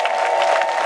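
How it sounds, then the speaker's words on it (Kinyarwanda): An audience at a choir performance breaks into applause, a brief dense burst of clapping with some crowd noise, loud and close, with no voices over it. "Imana amashyi menshi cyane"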